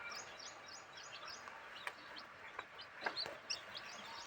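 A mother hen clucks softly and steadily to her five young chicks, with faint high peeping from the chicks, quiet and close.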